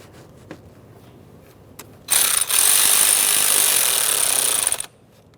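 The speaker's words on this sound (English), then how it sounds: "and snug that clamp" A power tool whirs loudly and steadily for about three seconds, then stops, while a hose clamp is tightened on the air intake tube of a 2.4L Jeep Patriot; faint clicks come before it.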